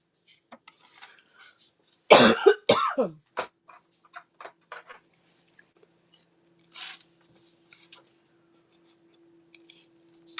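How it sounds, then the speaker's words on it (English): A burst of several harsh coughs close by, followed by quieter shuffling and small clicks in an otherwise quiet room. "I knew I was going to start coughing at some point."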